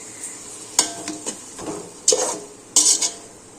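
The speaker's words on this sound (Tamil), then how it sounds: "இப்போ வந்து தக்காளியை நல்லா நம்ம வதக்கிக்கலாம்." Chopped tomatoes being stirred and sautéed in a pan for chicken biryani, with a steady sizzle broken by several sharp scrapes and clinks of a spoon against the metal, close and fairly loud.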